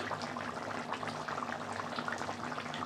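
A pot of rohu fish curry simmers at a steady boil, its dense bubbling and gurgling continuous and close throughout, with no voices.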